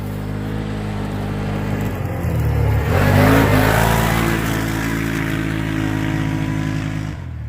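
Can-Am Outlander XMR ATV engine powering through high-speed corners, a loud, near drone that climbs as it accelerates, holds, then cuts off abruptly near the end.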